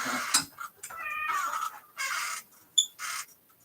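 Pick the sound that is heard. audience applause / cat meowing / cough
cat meowing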